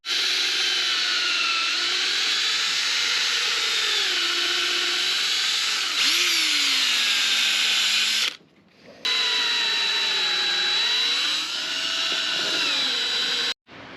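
A power drill drives larger screws during a winch repair on a Honda Foreman 450 ES ATV, whining loud and close in two long runs whose pitch dips and rises under load, with a short pause between them.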